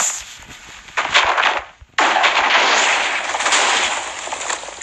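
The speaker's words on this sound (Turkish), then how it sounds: "İyi burası patladı." Bursts of crackling blast noise in Minecraft Pocket Edition erupt, fade briefly, then a second loud explosion hits and rumbles on with scattered debris-like crackles.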